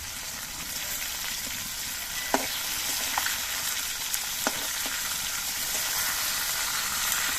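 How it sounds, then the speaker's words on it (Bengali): Boal fish pieces frying in a pan give a dense, continuous sizzle, close and fairly loud, with a few sharp pops and crackles scattered through it. "আমি আবার ঢাকনাটা খুলে নিচ্ছি আর দেখে নিচ্ছি মাছগুলো ভাজা হয়েছে কিনা"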